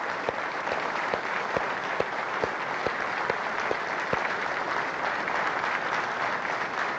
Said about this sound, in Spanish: Vamos a darle un aplauso a Bolívar, Padre Bolívar.